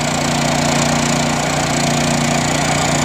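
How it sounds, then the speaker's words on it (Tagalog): A generator engine drones steadily and loudly at a construction site, feeding three welding machines, its constant hum holding through the whole stretch with no talk. "Yung ating tatlong welding machine dito, yan po ang nagdadala dito sa ating generator na yan."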